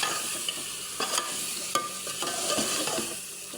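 Raw meat tipped into a pan of spiced masala that has already been fried down, then stirred, giving a steady close sizzle broken by a few scraping stir strokes, with no talking.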